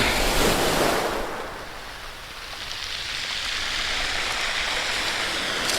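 Ocean waves wash in with a loud, broad hiss that crashes and recedes in the first second, then settles into a steady, rushing surf with no voices.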